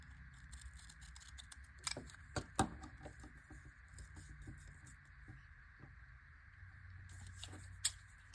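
Scissors snipping through paper to cut out a small butterfly shape, giving a handful of quiet, close, crisp snips spaced irregularly with soft rustling between them.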